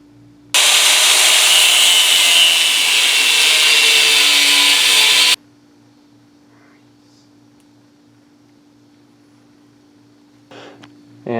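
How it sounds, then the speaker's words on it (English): An angle grinder cuts down and rounds the corners of an original 1970 Mustang clutch pedal, one loud, steady, continuous burst of about five seconds that stops abruptly, followed by a quiet hum and a few faint clicks. "cut down this original pedal. I'll round the corners nicely with a grinder"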